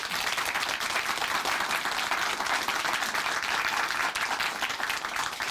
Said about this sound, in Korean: 우리 송재순 자매님께 다시 한번 큰 박수 보내드릴게요